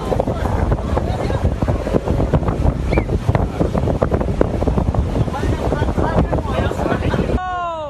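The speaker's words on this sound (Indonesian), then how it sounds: "video amatir warga yang merekam detik-detik munculnya pusaran angin puting beliung dari tengah laut pantai" Waterspout whirlwind rising from the sea off Parare beach, heard as a loud, constant roar of wind buffeting the microphone over surf and boat noise, with a voice briefly in the mix; the roar cuts off near the end.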